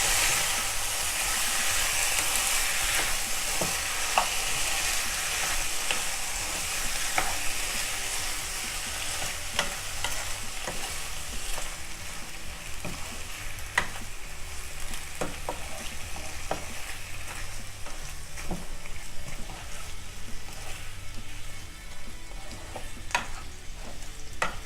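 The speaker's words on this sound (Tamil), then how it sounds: "இப்போ இந்த சிக்கனை வந்து இந்த மசாலாவோட நல்லா மிக்ஸ் பண்ணி விட்டுக்கலாம்." Chicken being stirred into masala in a hot pan for Erode Pallipalayam chicken fry: a steady, close sizzle runs throughout, broken by frequent spatula scrapes and clicks against the pan, with no talk.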